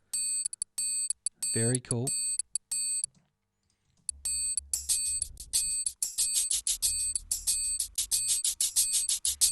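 Bright, high metallic triangle strikes ring out in a regular pattern from the isolated stem of a song, pausing briefly before returning alongside other percussion; a voice comments over a short break.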